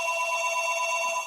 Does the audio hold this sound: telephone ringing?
yes